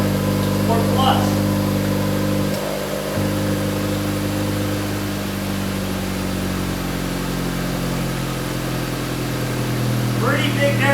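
Steady, low exhaust idle from a 2024 Honda Civic Type R or 2024 Acura Integra Type S, a constant droning hum close by, with a voice talking over it.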